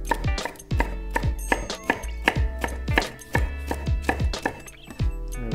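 A knife chops through bell pepper on a board in a quick, steady run of sharp cuts with ringing clinks, close and loud, with no talk.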